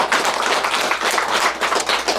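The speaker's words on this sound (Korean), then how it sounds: "다시 한번 박수로." Audience at a Buddhist meditation class closing ceremony applauds a monk's dharma talk: dense, steady clapping from many hands, fairly loud and continuous throughout with no pauses.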